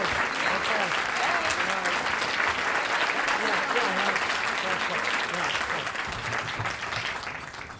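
Audience at a Chicago Teachers Union event breaks into sustained applause, a dense wash of clapping that holds steady and then slowly fades, with a voice briefly audible underneath.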